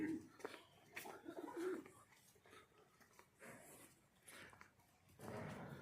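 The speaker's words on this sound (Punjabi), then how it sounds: "ਕਬੂਤਰ, ਮੁਰਗੀਆਂ ਵਗੈਰਾ ਵੀ।" Pigeons kept on a farm alongside chickens coo softly in low, rolling phrases that come and go, faint and slightly distant, with some breathy background noise.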